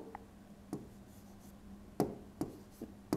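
A pen writes Arabic words by hand on paper, close and quiet, with a few sharp taps and short scratchy strokes spaced irregularly over soft background hum.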